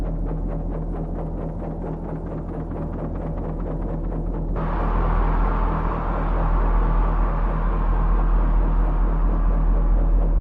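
A heavy low rumble fills a song's intro, a steady droning wash that swells and thickens partway through and holds loud to the end before cutting off.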